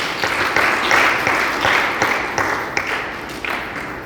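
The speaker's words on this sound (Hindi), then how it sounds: "तालियां जोरदार।" A temple sermon audience in Faridabad breaks into loud, sustained applause, many hands clapping close by in a steady patter for several seconds.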